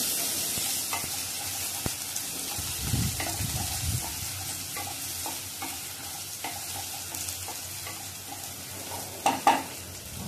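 Onion softening in a pan for a Marathi-style bhendi batata bhaji: a soft, continuous sizzle with occasional stirring scrapes and light clinks, moderately close and quiet, without speech.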